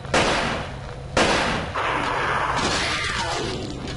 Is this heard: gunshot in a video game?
yes